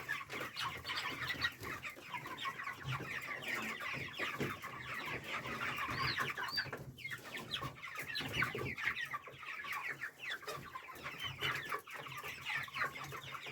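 Many broiler chickens cluck and chatter nearby in a continuous, busy flock sound, quiet overall with overlapping calls.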